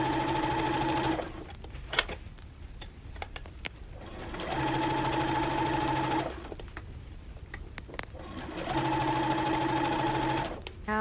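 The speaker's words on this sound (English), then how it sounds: "I'm just going to stitch it across until I reach the other end." A sewing machine stitches across the waistband of a pleated skirt in three steady, close whirring runs, each lasting a couple of seconds and separated by quiet pauses with light handling noises.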